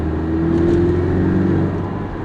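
The 2.5 liter engine of a 2018 Porsche Cayman S drones steadily under load, a loud sustained hum heard from inside the car.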